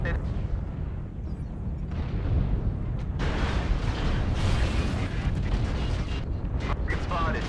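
Video game airstrike: dense rumbling explosions roll continuously through heavy, noisy game audio, loud and sustained, with several bursts swelling midway.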